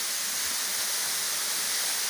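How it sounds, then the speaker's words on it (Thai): A forest waterfall pours down in a steady, dense rushing roar that fills the whole clip without pause, with no voices present. "น้ำตกค่ะ"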